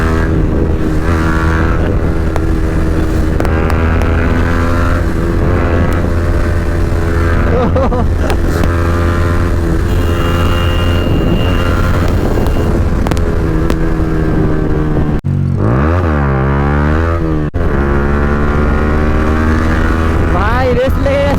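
TVS and V3 motorcycles racing on the road, engines droning loud and continuous with shifting revs and wind rush, a voice shouting over them.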